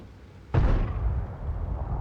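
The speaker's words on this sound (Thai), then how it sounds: "ระเบิดลงฝั่งนู้น" Artillery shell explosion in the World of Tanks video game: a single sudden, heavy blast with a deep rumbling decay that lingers for over a second.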